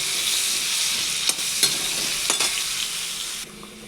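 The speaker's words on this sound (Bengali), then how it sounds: "এগুলো ভালো করে লবণ হলুদ দিয়ে লাল লাল করে ভেজে তুলব" Long-cut potato strips with salt and turmeric fry in hot oil, a steady dense sizzle with a few sharp clinks of a spatula stirring through it, close and alone.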